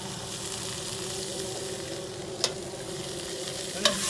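Steady hiss of food frying in a little oil in a pan while making carnitas, with two sharp clinks of utensils against the pan.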